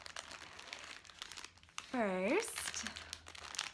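Close, crisp crinkling of plastic packaging around Peter Rabbit Beatrix Potter mini yarn skeins from Elm Tree Yarns, rustling in bursts through most of the moment while someone speaks briefly in the middle.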